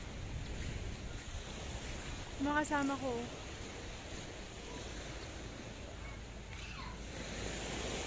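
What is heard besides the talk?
ocean waves on Boracay beach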